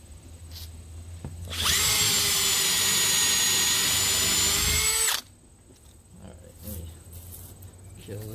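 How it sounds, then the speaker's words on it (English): Power drill boring half-inch holes into a plexiglass arcade control panel, one loud continuous high-pitched whine lasting about three and a half seconds, close up, with quiet room noise before and after. "Just watching me drill holes all day."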